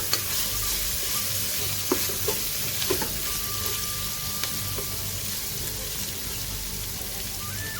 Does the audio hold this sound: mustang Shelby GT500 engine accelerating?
no